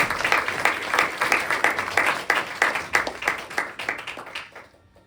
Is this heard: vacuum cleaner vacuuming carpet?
no